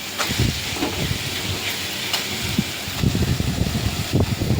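Paste frying in hot oil as mustard seeds splutter, with salt added, a steady close hiss broken by scattered pops and crackles throughout, growing busier toward the end.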